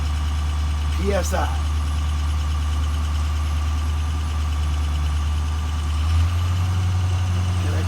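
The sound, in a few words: truck engine idling while building air pressure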